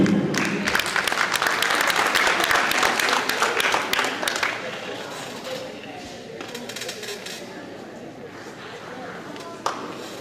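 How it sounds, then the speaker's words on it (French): Audience clapping fills the first few seconds with a loud, dense burst, then tapers into lighter, scattered applause and crowd murmur, with a voice speaking near the end. "Didier, sous vos applaudissements,"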